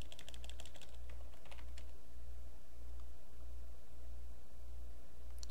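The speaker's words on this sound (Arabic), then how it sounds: "نجرب نكتب سودو باكمان اس واي واي" Someone types an Arch Linux pacman command on a computer keyboard, producing a quick run of close, crisp key clicks at the start, then a few more taps over a steady low hum and hiss.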